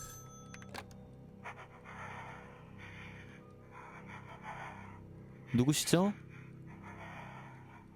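A voice speaks, then a short loud burst of heavy, panting breaths comes through a phone call in the video game Evil Inside, over a low background hum.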